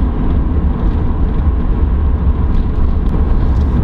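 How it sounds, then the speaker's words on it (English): Steady wind and road rumble fill the cabin of a high-mileage BMW Z4 on the move, a continuous low roar with no talking. "Now you can get an example of the wind noise as we're driving along"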